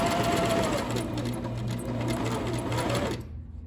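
A sewing machine stitching the seam of a simple godet skirt runs as a steady, close mechanical whir for over three seconds, then stops abruptly.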